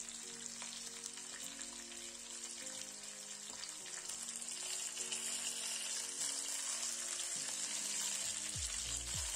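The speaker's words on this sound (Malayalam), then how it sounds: "ഇത് നമ്മൾ അങ്ങോട്ടും ഇങ്ങോട്ടും സൈഡ് തിരിച്ചിട്ട് വേണം വറുത്തെടുക്കാനായിട്ട്." A whole chicken fries in a little oil in a pan, producing a soft, steady sizzle and hiss close by, fairly faint overall, with a low background hum.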